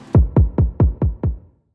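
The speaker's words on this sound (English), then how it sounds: "I then added a saturator and a tiny bit of reverb to make it sound like this." A saturated kick drum with a touch of reverb thumps six times in a steady rhythm, each hit deep and full with a gritty edge and a short tail, standing alone without other instruments.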